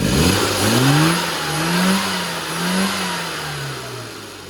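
Tuned classic Mini engine revving up and down in repeated rises and falls, a steady close mechanical drone with no voices.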